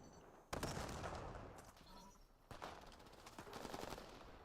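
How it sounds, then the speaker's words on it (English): Gunfire crackles in the Call of Duty video game, with two sharp bursts of automatic fire followed by sustained rattling shots, heard fairly quietly. "But I hear gunfire, and I'm just like, I just gotta run at it like a bull."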